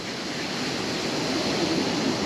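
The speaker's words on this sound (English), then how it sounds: "Waves seem pretty high today." Rough ocean surf breaks on a beach beside a resort hotel, a steady dense wash of waves with wind noise and no voices.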